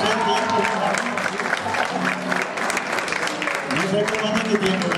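An audience claps at an anniversary celebration café event in Santiago, Nuevo León, the applause moderate and continuous, with a voice speaking and some music-like tones underneath.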